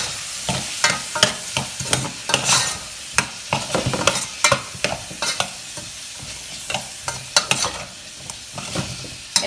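Frozen corn sizzling with onion in a hot pan for a Mexican burrito bowl, with steady frying hiss punctuated by frequent sharp scrapes and clacks of stirring, close and busy throughout.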